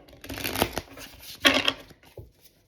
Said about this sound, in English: I was trying to look up different ways of shuffling, but I have my own groove, and it works really well.